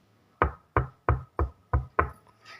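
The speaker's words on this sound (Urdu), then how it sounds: "پھر سے دستک دی" Six firm knocks on a door, evenly spaced and close, each a sharp thud with a short decay, followed by a faint trailing sound.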